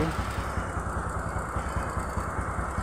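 A Honda Supra 125 motorcycle engine idles close by, a steady low pulsing putter that holds an even rhythm throughout with no voices over it.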